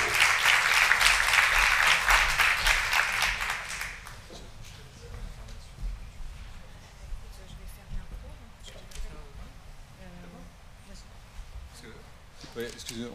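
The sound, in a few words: audience applause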